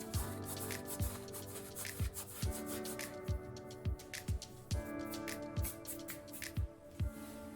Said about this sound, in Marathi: अर्धा चमचा ओवा हातावर चोळून टाकायचा नेहमी